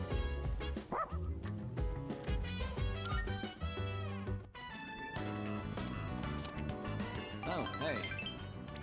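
Koromaru the dog barking and yipping in the video game Persona 3 Reload, short bursts of barks and whimpers over background game music.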